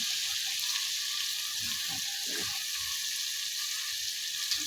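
Chicken frying with salt, red chilli, turmeric and ground coriander in a pan, giving a steady broad sizzle throughout, with a few soft low scrapes of stirring underneath; close and continuous, no talking.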